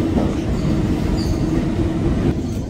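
Steady rumble of a moving train carrying passengers, a continuous loud low roar of wheels and carriage filling the whole stretch with faint higher squeaks and no talking.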